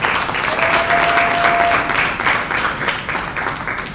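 An audience applauds a speaker at a certificate award ceremony in a hotel hall in the DRC: steady, dense clapping from many hands throughout, with a brief thin tone ringing above it early on.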